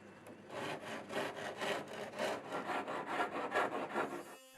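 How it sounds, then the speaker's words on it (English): Steady, rhythmic abrasive rasping of carbon fibre edges being trimmed with a permagrip abrasive wheel, close up and fairly loud, in repeated strokes for several seconds. "get the edges trimmed back with a permagrip wheel and sanding block"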